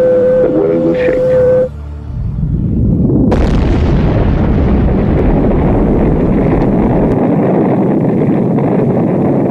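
Atomic bomb explosion in a documentary: a sudden massive boom swells into a long, loud roaring rumble that keeps rolling and hissing, following a brief tone and a moment of quiet.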